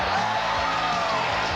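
Loud, dense crowd cheering and whooping at a Super Bowl Sunday celebration, a brief sustained roar of many voices with no pauses.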